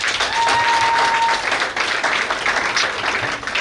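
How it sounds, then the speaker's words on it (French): Guests applauding at a civil wedding ceremony in Brazzaville, a continuous, loud wash of clapping from a room full of people lasting throughout. "On applaudit pour lui, s'il vous plaît."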